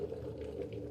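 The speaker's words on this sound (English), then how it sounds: "The water is boiling already." Water boiling for coffee, a faint, steady bubbling hiss that continues unbroken and alone throughout.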